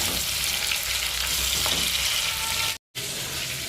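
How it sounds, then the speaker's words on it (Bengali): Two medium tomatoes go into hot oil with cumin seeds, giving a loud, dense, steady sizzle that breaks off into a brief moment of silence before resuming. "মা কেটে নিয়েছে মাঝারি সাইজের 2টো টমেটো। এবার সেটাও মা তেলে দিয়ে দিচ্ছে।"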